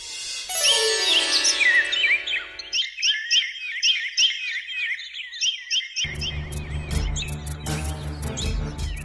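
A cartoon parrot in a kids' show chirps and tweets in quick, bright, bouncing bursts, first with a sparkly musical sweep, then sharp rapid calls, ending over busier background music.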